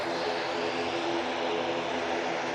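Aer Lingus propeller airliner passing at Manchester Airport, a steady broad droning roar with a faint tonal whine, moderately distant and continuous.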